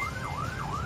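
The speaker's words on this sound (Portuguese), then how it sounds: "Sempre dê passagem para a viatura em situação de emergência" An emergency vehicle siren wails in a fast up-and-down sweep, carrying steadily through road and engine noise from a vehicle during a police pursuit, with no talking.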